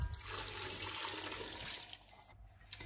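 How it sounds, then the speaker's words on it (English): Vegetable stock is poured onto salted potatoes in a Ninja Foodi pressure cooker, a steady splashing, gurgling stream of liquid close by that runs continuously and tapers off near the end. "And now we pour in our vegetable stock."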